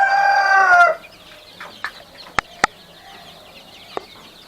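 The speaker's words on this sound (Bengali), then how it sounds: "ওই যে মুরগি, দেশি মুরগি" Desi chickens in a farmyard: a rooster's crow rings out clearly at the start, then gives way to scattered short clucks and a few sharp knocks against a quiet background.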